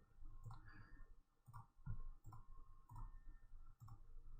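A computer mouse clicks softly and repeatedly in an irregular rhythm while someone sets up materials in 3D software, with a faint steady hum in the background.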